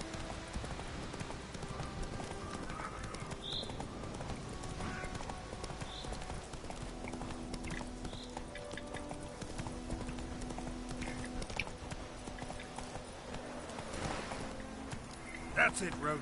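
Hooves of the horse Roach clip-clopping at a trot in the video game Witcher 3, a steady rhythmic patter of footfalls running throughout over game ambience and faint background sounds.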